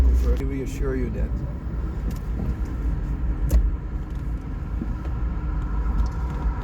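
A Daihatsu Copen convertible roadster's engine idles below 1000 RPM, a steady low rumble throughout with a voice speaking over it near the start.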